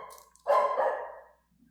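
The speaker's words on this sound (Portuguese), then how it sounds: "Desculpe pelo totó que está latindo aí" A small dog barks in one loud, drawn-out burst up close, after a short stretch of faint background noise, then the sound fades quickly to near silence.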